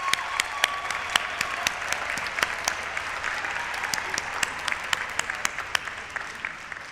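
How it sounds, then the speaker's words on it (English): A crowd at a dual enrollment recognition ceremony applauds the class of 2025, with brisk, sustained clapping and distinct individual claps cutting through, steady from start to finish without speech. "I just want to give a round of applause for the class of 2025."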